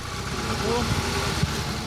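A car engine idles steadily after being started, a low mid-pitched hum running under nearby people talking.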